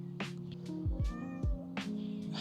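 A cat meows a few times in quick succession, close and clear, in a car workshop during a Honda Civic Si body kit install, with a steady low hum underneath.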